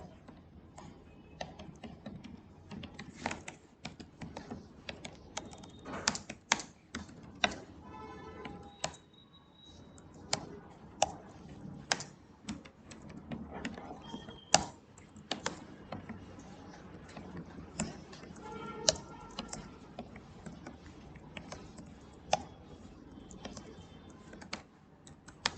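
Steady computer keyboard typing while entering CSS code during an HTML and CSS lesson: irregular bursts of close, crisp key clicks with brief pauses, no voices.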